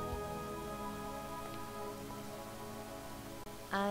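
Rain falls in the video game Deadly Premonition as a soft, steady wash under tonal music, with a brief brighter chime near the end.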